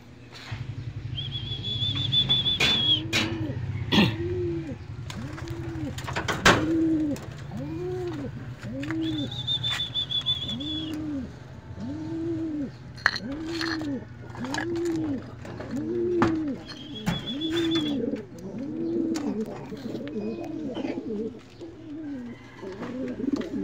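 Pigeons cooing in a cage during a morning coop cleaning, a steady run of soft, repeated low coos close by, with occasional thin whistles and clanks and some faint background voices.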